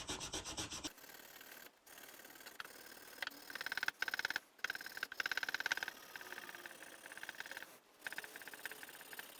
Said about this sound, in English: I like to go through them with a piece of Scotch-Brite. This is the gray one.